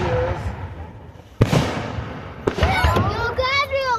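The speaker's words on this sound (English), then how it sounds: "You guys are watching the fireworks." Fireworks going off outdoors, a couple of sharp bangs with crackling bursts, at mid distance amid children's voices and chatter.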